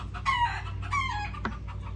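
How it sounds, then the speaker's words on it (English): Roosters crowing outdoors: two drawn-out crows in quick succession, moderately distant, over a steady low hum with no talking. "Them roosters out there, y'all, every time I go to talking,"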